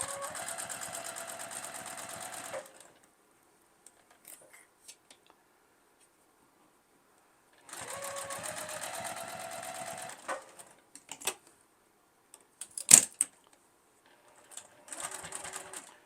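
A sewing machine stitches a fabric bowl cozy in close, fast, steady runs of a few seconds each, separated by quiet pauses with small handling clicks and taps.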